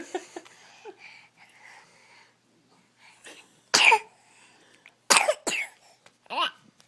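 A child coughs several times in quick, sharp bursts between faint mumbling, at a family birthday greeting for a grandma, close and fairly loud.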